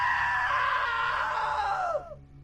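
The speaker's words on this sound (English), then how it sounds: "Now that was a great scream." A woman's long, sustained scream in What Remains of Edith Finch holds loud and strong for about two seconds, then trails off and falls away into quiet.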